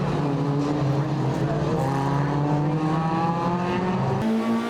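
Sports 2000 race car at Brands Hatch, its engine note droning loud and steady with rising and falling harmonics as it passes, a second engine tone cutting in near the end.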